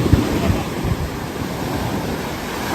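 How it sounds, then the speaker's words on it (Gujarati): Sea waves at Diu beach roll in as a steady, close roar of surf, mixed with wind buffeting the microphone and no break in the wash of water. "હા મોજા તો જોવો"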